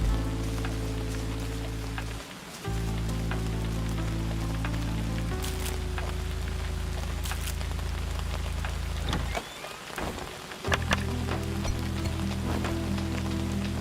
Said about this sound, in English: Can't light a fire when it's raining